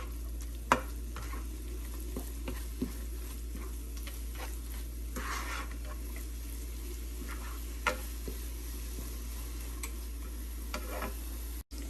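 A beetroot and coconut mixture fries over medium heat in a pan, giving a soft, steady sizzle under occasional light clicks and taps from stirring.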